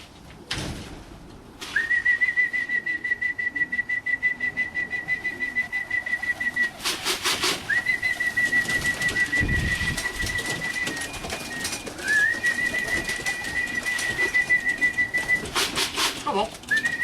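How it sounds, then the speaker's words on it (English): A pigeon fancier's long, steady whistles call racing pigeons into the loft, repeated high sustained tones over soft cooing and wing flutters, with brief clatter between whistles and occasional speech. "So I'm going to drop the trap board now, whistle the birds"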